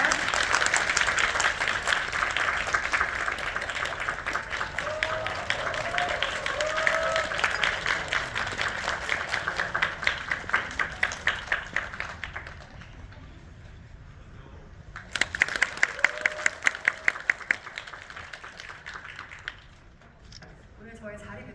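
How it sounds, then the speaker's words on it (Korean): Audience applause at a film talk event in a Megabox COEX cinema hall, dense and sustained with some speech mixed in, fading after about 12 seconds, then a short second burst of clapping before quieting. "박수 부탁드립니다."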